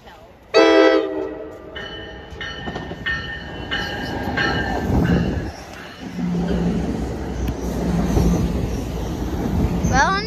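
A Norfolk Southern freight train passes through Union station in New Jersey, opening with a loud, sudden horn blast, followed by brief horn toots and a continuous rumbling, rattling roar of cars rolling by close up.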